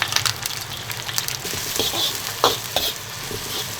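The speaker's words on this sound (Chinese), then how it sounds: "把那个肥肉油给它煸出来，肉给它煸干煸香。" Pork belly stir-fries in a wok with ginger, garlic and fermented black beans, giving a steady close sizzle with scraping stirs and occasional sharper spatters. No one talks.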